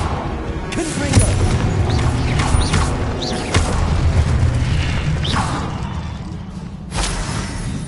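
Confringo blasting spell in a Harry Potter video game, a burst of booming, crackling impacts and mechanical clatter amid a busy game soundscape, with a sharp pop returning near the end.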